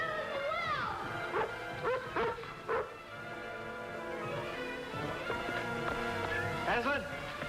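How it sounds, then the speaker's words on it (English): Radio-drama sound effect of a dog barking and snarling as it attacks a man, several sharp close barks and yelps in bursts, mixed with overlapping voices. "Then the dog attacks the guy."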